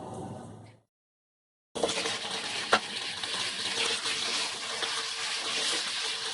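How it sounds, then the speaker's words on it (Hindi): Onions fry on a low flame in a pan for aloo palak, a steady soft sizzle close by after a short cut to silence, with one sharp tap of a utensil. "प्याज लाइट गोल्डन फ्राई हो रही है।"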